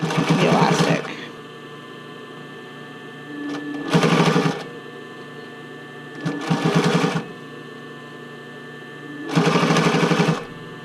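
A sewing machine stitches a bra fitting band onto elastic in four loud, distinct bursts with quiet pauses between them, and no one speaks.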